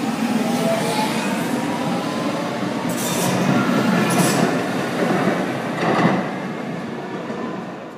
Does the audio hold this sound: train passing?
yes